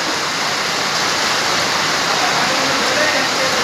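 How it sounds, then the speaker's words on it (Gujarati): Heavy rain falls at night in a loud, constant hiss of downpour that fills the whole stretch without pause. "ભૂક્કા કાઢ્યા વરસાદે"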